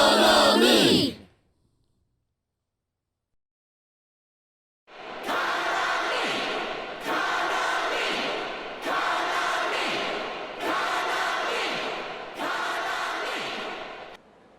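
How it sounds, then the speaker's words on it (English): Crowd in the rhythm game Persona 4 Dancing All Night cheering and chanting a name, five loud, evenly spaced shouted bursts after a short blip and a moment of silence. "The crowd's going wild for some reason."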